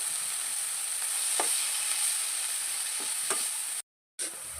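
A Kerala-style fish curry masala of chopped tomatoes and curry leaves sautés in a pan, giving a soft, steady sizzle with a few faint stirring scrapes and a brief silent gap near the end.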